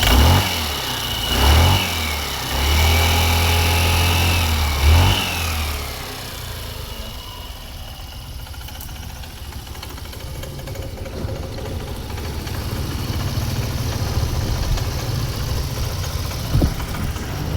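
A Royal Alloy GP 150 scooter engine, just fixed with a new injector O-ring, fires up with rough sputtering cranks and blips, then settles into a steady idle that rises gradually, heard close and loud.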